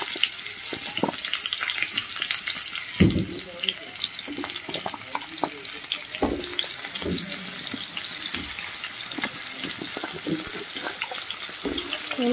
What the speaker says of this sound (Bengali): অল্প যে তেল আছে তাতে কুমড়োটাও দিয়ে দিচ্ছি। কুমড়োটাও হালকা করে আমি ভেজে নেব।